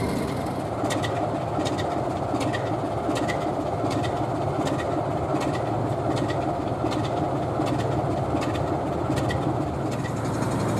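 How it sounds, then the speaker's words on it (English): A Class 31 diesel locomotive rolls into a heritage railway platform, its engine droning low under a steady, rhythmic clickety-clack of wheels over rail joints. "we notice the railway's resident Class 31 heading into Platform 2"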